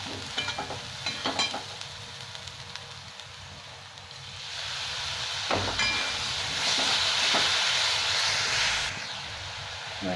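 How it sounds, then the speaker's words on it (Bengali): Spice paste of cumin and Kashmiri chilli powder frying in a pan with a splash of water, a steady hiss that swells louder midway, with scraping stirs throughout and no talk. "এবার অল্প একটু জল দেবো, দিয়ে মশলাটা ভালো করে ভেজে নেব।"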